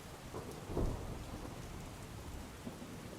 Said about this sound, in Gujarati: અમદાવાદમાં વહેલી સવારથી જ હળવો વરસાદ વરસી રહ્યો છે.